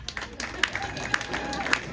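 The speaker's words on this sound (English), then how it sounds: "Clap for me if you know for a fact that you're washed up." Scattered, sparse clapping from a small comedy club audience, a handful of separate hand claps over a low room murmur, thin and uneven rather than a full ovation.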